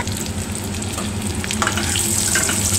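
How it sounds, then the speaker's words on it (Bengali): Cashews sizzle and fry in hot ghee with a steady, close crackling hiss that continues throughout without any talk. "প্রথমে আমি কাজুগুলোকে ভেজে নেব"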